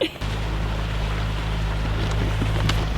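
A water taxi boat pulls up to dock beside a sailboat, its steady low engine drone continuous and fairly close, with water and wind noise over it and no talk.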